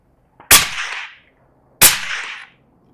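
Two sharp, muffled suppressed .308 rifle shots about a second apart, each with a short tail, close and loud with quiet between.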